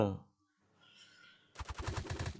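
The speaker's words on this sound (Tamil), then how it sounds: "புல்லட் அனுப்புனா அவன் மேலேருந்து சுடுறான்" An enemy fires at the player in the Raft survival mobile game: a rapid, rattling burst of automatic gunfire follows a brief voice and a quiet pause.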